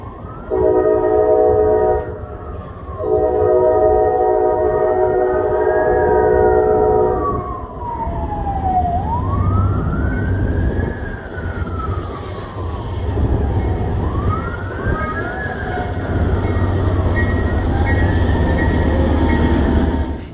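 A Norfolk Southern coal drag train pulls in at Granby Street in Norfolk, its horn blaring in long sustained blasts and bending notes over the heavy rumble of locomotives and rolling cars.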